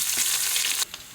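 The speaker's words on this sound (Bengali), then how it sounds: "ফোড়নে তেজপাতা আর শুকনো লঙ্কা, এবার কুচনো পেঁয়াজ," Chopped onion, bay leaf and dried chilli frying in hot oil left over from frying fish, a loud, steady close sizzle that cuts off abruptly near the end, followed by a brief faint stir.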